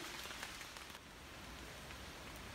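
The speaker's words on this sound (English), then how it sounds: "Every now and then the wind blows and drops a lot of raindrops on me." Raindrops shaken by the wind from wet trees onto a hiker on a rocky stretch of the Appalachian Trail, a soft, steady patter of drops landing nearby and filling the whole moment, with no voices.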